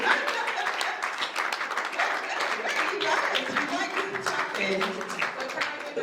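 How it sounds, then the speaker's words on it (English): Audience applause at a panel event, a dense wash of clapping blended with crowd chatter and voices, steady and fairly loud for about six seconds. "Can we give a massive applause to Laura?"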